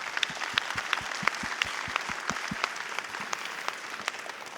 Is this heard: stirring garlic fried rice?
no